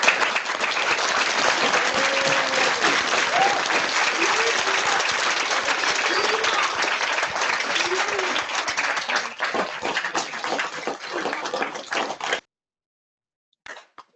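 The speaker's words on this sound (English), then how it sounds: "if we could all unmute our microphones and give Mr. Little one big round of applause" Online participants unmuting their microphones to applaud Mr. Little, a loud, steady burst of clapping through compressed audio lasting about twelve seconds, with some voices mixed in, then an abrupt cut to silence and a brief final clap.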